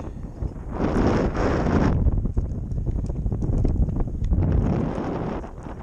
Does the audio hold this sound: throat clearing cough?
no